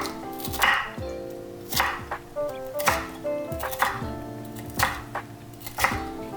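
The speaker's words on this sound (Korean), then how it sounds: "파프리카와 피망은 엄지손톱 크기로 잘라주세요." Knife chopping paprika and bell peppers into thumbnail-sized pieces on a board for royal tteokbokki: crisp, steady chops roughly once a second, close by, over soft background music.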